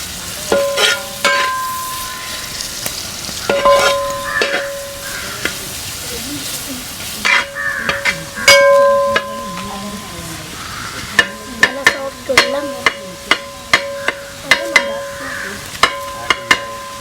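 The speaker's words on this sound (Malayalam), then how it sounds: "വെളിച്ചെണ്ണ ഒന്ന് വെച്ച് കൊടുക്കുക. അതിലേക്ക് 2 ഉള്ളി ചെറുതായി കട്ട് ചെയ്ത്," Chopped onions fry in coconut oil in an uruli, giving a steady close sizzle broken by repeated sharp metallic clinks as a spoon stirs against the vessel.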